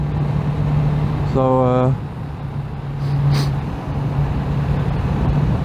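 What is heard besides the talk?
1985 Kawasaki GPZ600R motorcycle riding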